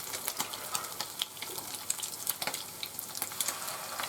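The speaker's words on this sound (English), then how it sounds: "make sure that the patties don't touch each other. Okay, when you're frying them" Fish patties frying in hot oil in a pan for blackened cod and salmon tacos, a steady fine crackling sizzle with scattered pops, close and moderately quiet, with no talk.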